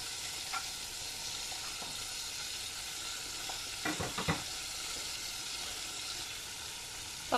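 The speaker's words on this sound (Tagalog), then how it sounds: "Ayan, kumukulo na siya mga kaatak." Sinigang with salmon head and pechay boils in a pot, giving a steady bubbling, hissing roil that runs throughout, with a few soft clinks near the middle and no talking.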